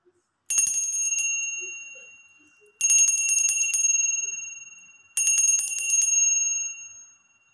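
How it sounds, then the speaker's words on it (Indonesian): A bright metallic bell rings three times at even intervals, each strike made of rapid trills that ring out and fade before the next. "saya akan melanjutkan dengan tanda lonceng berbunyi"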